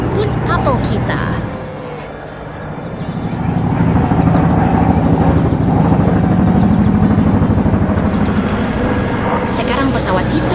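Crop-spraying aircraft in an animation flying low over an apple orchard, a loud steady engine drone that swells and holds throughout, with no voices.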